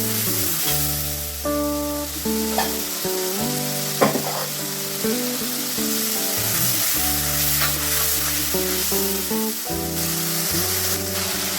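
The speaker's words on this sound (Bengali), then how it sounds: "এখন আমি ভালো করে মশলাটাকে ভেজে নেব।" A ground spice paste of ginger, cumin, chilli powder, turmeric and salt fries in oil in a pan, a steady close sizzle with the scrape of stirring throughout, no voices.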